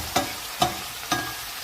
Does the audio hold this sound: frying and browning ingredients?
yes